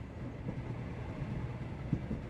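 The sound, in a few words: train rolling along in Sherlock Holmes The Awakened video game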